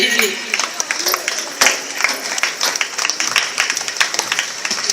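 Audience clapping at a school award ceremony, a steady patter of many hands ringing close and fairly loud throughout, with crowd murmur blended underneath.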